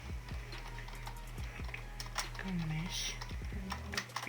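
Keys clatter on a computer keyboard in quick irregular bursts of close taps, while a voice speaks briefly underneath.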